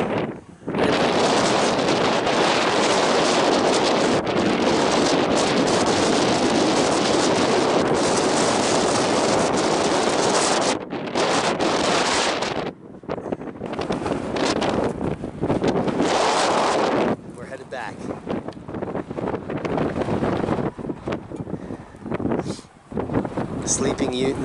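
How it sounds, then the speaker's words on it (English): Strong, roaring wind buffeting the microphone on the summit of Shiprock, a volcanic neck in New Mexico, loud and continuous with a few brief lulls and gusts. "And it was windy. It still is windy."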